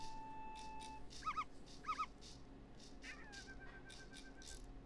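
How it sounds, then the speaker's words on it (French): A dog character in a Yoshi video game demo gives two quick, chirpy yips over soft background game music and effects. "Il y a le chien."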